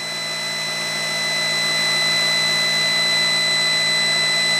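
An aircraft DC starter-generator turns at about 3,000 RPM with its cooling fan, making a steady mechanical whine with several constant tones over a smooth hum that swells slightly and then holds level.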